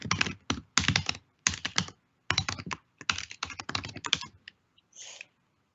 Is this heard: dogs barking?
no